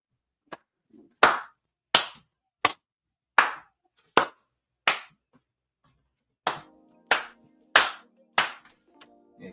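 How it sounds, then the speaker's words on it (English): Sharp, loud hand claps ring out one at a time in an irregular, spaced rhythm, about a dozen over several seconds, with a faint hum underneath in the later stretch. "I gotta stand up and get this man a round of applause."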